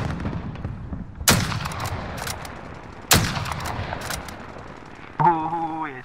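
Two loud video game gunshots crack out a couple of seconds apart over a low noisy background, followed by a warbling electronic tone.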